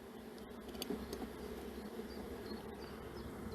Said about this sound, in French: là, il y a moins d'abeilles